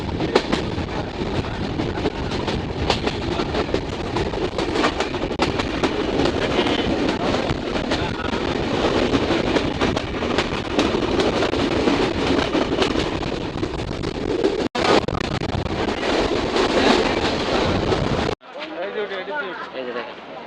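A train carrying passengers in Bangladesh runs near Bheramara station, heard from on board as a loud, steady broadband rumble and rattle for most of the stretch before dropping abruptly to a quieter hum near the end.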